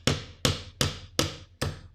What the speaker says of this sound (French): hop, petit au marteau.